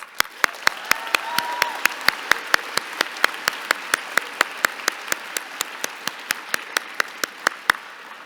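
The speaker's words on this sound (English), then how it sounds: "Round of applause" Applause at a graduation ceremony at Branksome Hall in 2025, with steady, evenly spaced claps sounding close and distinct throughout over a soft bed of wider crowd clapping.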